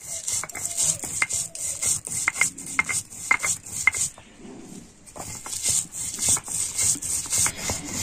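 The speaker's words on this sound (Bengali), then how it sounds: "এবারে আমি এই সমস্ত ভাজা মশলাগুলো শিলনোড়াতে গুঁড়ো করে নেব" Roasted spices ground by hand on a traditional shil-nora grinding stone, with repeated rough rubbing strokes in an uneven rhythm, scraping and occasional light knocks, close and moderately loud, with a short pause midway.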